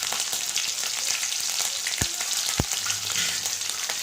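Green chilies fry in a hot pan for a brinjal curry, giving a steady close sizzle throughout, with two short clinks or stirs partway through and no voices.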